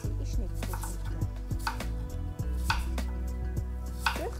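Peeled small Thurgau apple halves are cut into quarters with a knife on a board, giving a steady run of crisp, close chops over a constant musical background.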